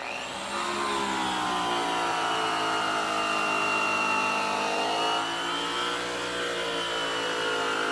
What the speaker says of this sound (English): Right now I'm just polishing that outer lip, and then I'm going to work my way in.